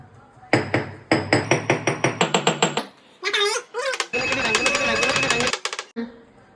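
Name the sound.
pounding spice paste ingredients for biryani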